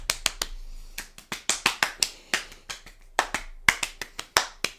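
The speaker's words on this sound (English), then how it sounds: "You might want to shake a little bit, stamp your feet and clap your hands." Hands clapping in sharp, separate claps at an uneven, quickening pace, close and loud with short silences between each clap, no voices heard.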